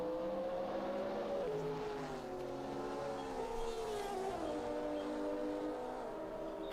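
A classic sports car from a GT Legends racing game, lapping the Calabogie circuit, gives a steady, loud engine drone that climbs and falls in pitch through gear changes and corners, running without a break and with no talk.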